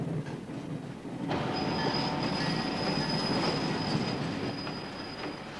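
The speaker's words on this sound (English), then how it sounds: "the train crosses the Missouri River" A Chicago and North Western train rumbles steadily across the Missouri River with a loud roar and a high metallic squeal from the wheels, continuous throughout.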